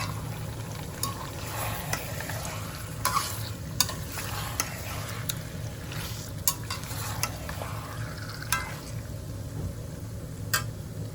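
Meat frying in a pan while being stirred, with a continuous close sizzle broken by repeated sharp spatula scrapes and clinks against the metal; no talking.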